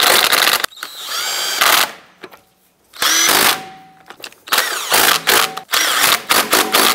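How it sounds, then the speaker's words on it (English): Cordless impact tool spinning down and snugging wheel lug nuts on a 2004-2009 Dodge Durango, several loud whirring bursts separated by short pauses, close by with no talking. "Go ahead and snug down the lug nuts."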